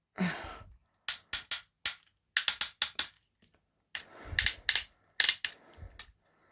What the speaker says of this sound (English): Quite the loud ratchets.